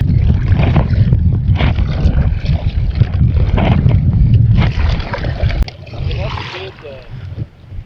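Kayak paddling across Claytor Lake, with steady wind buffeting the microphone and low water and paddle sounds running under it throughout, quieter toward the end.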